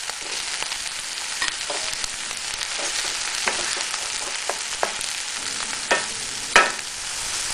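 Mushrooms sizzling and frying in a pan seasoned with pepper and salt, a steady bright crackle with occasional louder pops and stirring scrapes, no talking.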